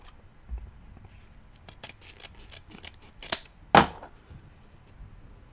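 Scissors cut ribbon and mesh for a patriotic pancake-style door wreath, giving two sharp snips close up after a run of light handling clicks, with no talking.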